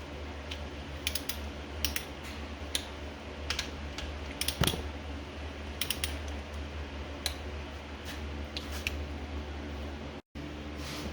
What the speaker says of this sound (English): now torque to 11 foot-pounds